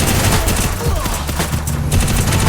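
Rapid bursts of gunfire crackle in a battle royale match, loud and close, with shots overlapping in quick clusters over a constant game backdrop.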